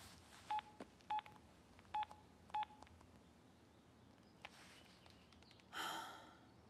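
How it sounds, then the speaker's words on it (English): A telephone keypad gives four short, evenly spaced dialing tones, faint and close, followed by a soft breathy sound and a brief rustle. "Try calling Martin"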